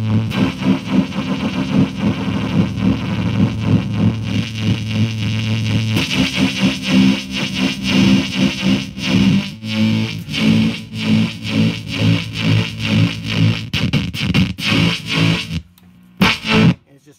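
Loud, heavily processed guitar chords with thick synthetic distortion, sustained and pulsing, ending in a few choppy stutters before cutting out.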